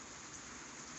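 Steady rain falls on a cold day at 32–33 degrees, a dense, even hiss of drops on surfaces that holds unchanged throughout, with no voices.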